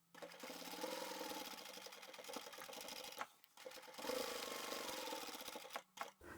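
A sewing machine stitches a seam on a vinyl upholstery bag made from sample swatch fabric, a fast, steady mechanical whir with rattling needle strokes, briefly pausing midway before resuming and ending with a few clipped stops.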